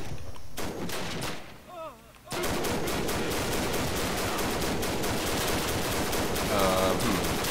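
Bursts of rifle and machine-gun fire crackle through a World War One video game battle, a brief quieter lull before a dense, continuous barrage of shots resumes, with faint voices among the noise.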